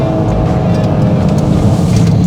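A Toyota GR Corolla's turbocharged engine lifts off throttle while driving, giving a loud, close, steady rushing drone inside the cabin without talk.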